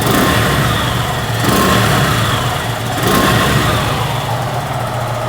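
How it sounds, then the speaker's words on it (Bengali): A 2024 Suzuki Gixxer SF fuel-injected motorcycle engine runs steadily at idle nearby, a continuous loud hum with slight swells in revs and no talking. "বাইকটা কিন্তু স্টার্ট করা হয়েছে, আর আপনার সাউন্ডটা শুনতে পাচ্ছেন আশা করি"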